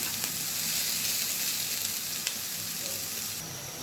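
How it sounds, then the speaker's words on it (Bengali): Onions frying in oil give off a steady, dense sizzle, with a potato fry stirred alongside; faint occasional clicks rise briefly above the constant hiss. "পেঁয়াজগুলো আমি খুব ভালোভাবে ভেজে নিচ্ছি। পাশাপাশি আলু ভাজিটাও নাড়া দিয়ে দিচ্ছি।"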